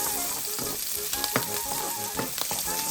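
Three cloves of chopped garlic fry in a pan with a steady, close sizzle, broken by brief stirring scrapes and small crackles.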